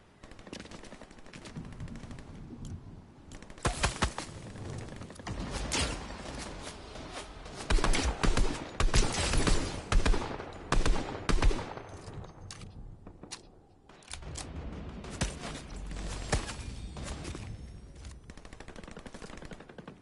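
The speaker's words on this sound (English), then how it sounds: "They're shooting me through the trees like they know where I am." Rapid automatic gunfire from a Fortnite match crackles in dense bursts, some near and loud, others farther off, with short lulls and footsteps between volleys, no talking.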